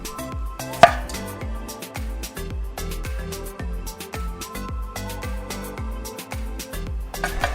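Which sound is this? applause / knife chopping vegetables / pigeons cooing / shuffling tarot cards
knife chopping vegetables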